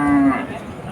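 At Chuknagar cattle market, a cow or bullock gives a single short, deep moo close by, which quickly fades into the murmur of the surrounding market.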